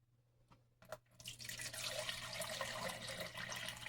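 Filtered water pours from a tap into a measuring cup in a home kitchen for cooking whole grits, starting with a few faint clicks and drips, then a steady soft splashing stream, fairly quiet and close.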